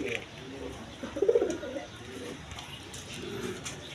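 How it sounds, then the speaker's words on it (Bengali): A single male Rajgolla pigeon gives one short, throaty coo near the middle, close by, with soft murmuring and background noise around it. "এখানে একটা সিঙ্গেল নর আছে রাজগোল্লা কবুতর"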